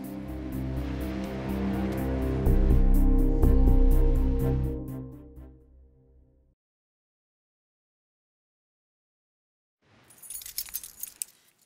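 Truck keys jangle in a brief metallic rattle near the end, after a steady, rhythmic background sound fades into several seconds of silence.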